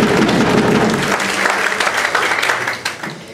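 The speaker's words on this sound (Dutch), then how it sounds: "Geef nog eens een mooi applaus." Enthusiastic applause from an audience, loud and continuous, thinning slightly toward the end.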